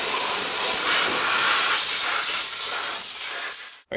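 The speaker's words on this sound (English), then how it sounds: "we're going to blow all the dirt and stuff out of there" Compressed air blasts dirt out of the engine case of a Yamaha Grizzly 700 ATV in a loud, continuous hiss that holds steady for nearly four seconds, then cuts off abruptly.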